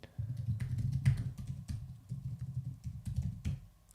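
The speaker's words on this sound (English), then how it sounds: "I couldn't see what I was typing" Rapid clicking of computer keyboard keys typed in a steady, uneven rhythm, close and fairly quiet over a low background hum, with no talking.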